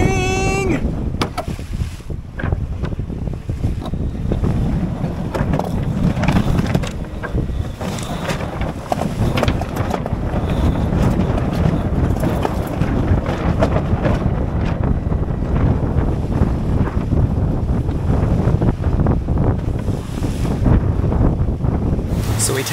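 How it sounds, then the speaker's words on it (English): A catamaran sails upwind through wind and waves, with heavy wind buffeting across the microphone, rushing water and hull slaps continuing steadily and loudly throughout. "So we tack to get a better angle, that way we can sail into the atoll."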